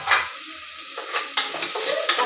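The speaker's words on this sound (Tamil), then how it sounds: "தக்காளி வந்து நல்லா வதங்கணும்" Tomatoes sautéed for a Sunday chicken biryani sizzle in a pan while a spoon scrapes and taps repeatedly, producing several sharp stirring knocks over a steady frying hiss.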